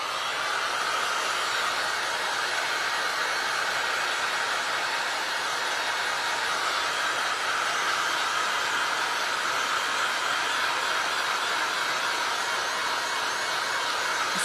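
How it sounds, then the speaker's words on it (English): A heat gun blows steadily on freshly poured resin in a beginner sea glass and resin art project, giving a continuous, even broadband rush with no pauses and no talking. "I'm gonna hit this resin with my heat gun"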